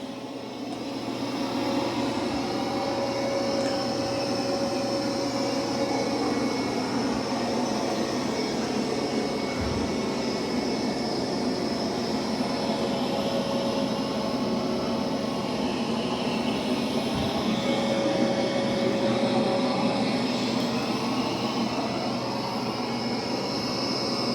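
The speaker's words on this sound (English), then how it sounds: "It's doing a really good job of vacuuming." A Dreame X60 Max Ultra robot vacuum works across carpet with a steady, even whirring drone, close and unbroken for the full duration, with a couple of faint bumps.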